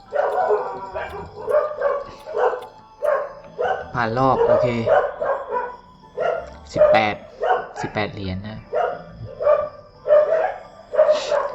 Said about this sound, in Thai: หมาข้างบ้านก็เห่าจังเลยเนาะ